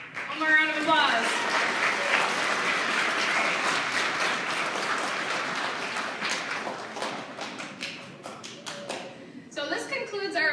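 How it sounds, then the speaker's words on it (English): An audience at a grades 3–6 school awards ceremony claps steadily and loudly, a dense continuous patter that holds for most of the stretch, tapers to a few isolated claps, then picks up again briefly at the close. "One more round of applause."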